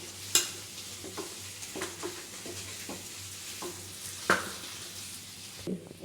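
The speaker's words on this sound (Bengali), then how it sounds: "এবার একটু ভালোভাবে নেড়ে নেব" Chicken korma is stirred as it fries in a pan, a soft continuous sizzle punctuated by irregular scrapes and sharper clinks of the spoon against the pan, heard close and without speech.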